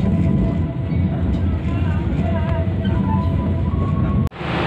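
Night passenger train Serayu pulling out of Cimahi's main station, a steady loud rumble of wheels and carriage noise with faint squeals, heard from on board, ending in a brief sharp cut.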